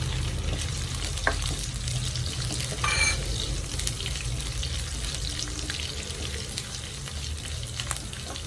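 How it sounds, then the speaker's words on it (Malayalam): Finely chopped garlic frying in hot oil in a pan for a potato roast produces a dense, even sizzle close by, with occasional spatula taps and a brief scraping burst midway, and no voices. "വെളുത്തുള്ളി ഇട്ട് കൊടുക്കാം ചെറുതായിട്ട് അരിഞ്ഞതാണ് അതും കൂടെ ഇട്ട് കൊടുക്കാം"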